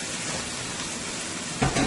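Seasoned turkey frying in a pot for a Caribbean stew, a steady broadband sizzle that swells louder near the end as the meat hits the hot oil, with no voices.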